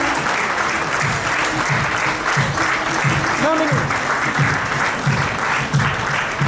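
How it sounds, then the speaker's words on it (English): A crowd at a teachers' awards ceremony applauds a teacher in steady, loud clapping throughout, with a faint murmur of voices beneath. "Can we have a big round of applause for her?"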